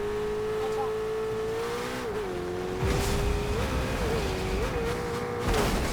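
A car driven in the video game Fortnite, its steady engine drone rising and falling with revving and a brief tire squeal, heard up close under players talking.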